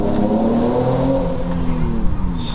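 A modified Nissan 370Z's engine drones steadily and loudly from inside the car, its pitch rising slightly as it revs, with no talk over it.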